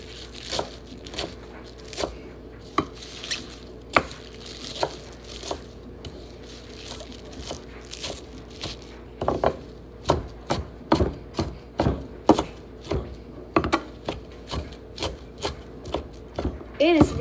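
A knife chops a handful of spinach on a cutting board in a home kitchen: a steady run of crisp, close blade strikes, sparse at first, then faster and denser, with no talk.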